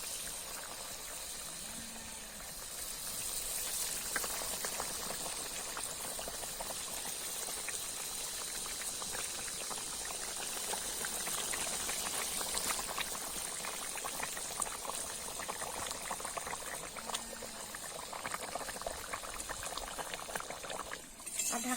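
Koi fish and fried eggplant simmer uncovered in a mustard sauce, a soft, steady bubbling and hissing from the pan that continues throughout, faint and close.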